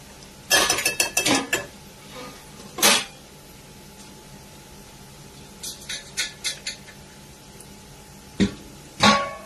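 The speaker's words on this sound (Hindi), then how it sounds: "बीच बीच में पलटते रहिए, जिससे कि इवनली सब अनियंस हमारे फ्राई हो जाएं।" Onions frying in a pan for Champaran-style mutton, chicken or egg curry, stirred and turned with a metal utensil: bursts of clinking scrapes against the pan, a sharp knock, then quieter tapping and two more scrapes, with no talking.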